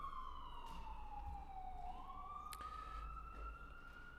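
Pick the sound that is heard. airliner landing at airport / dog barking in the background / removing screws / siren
siren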